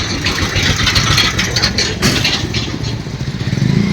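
A Powertrac 4455 four-cylinder tractor engine runs steadily at idle, a loud continuous rumble heard close up with no talk over it.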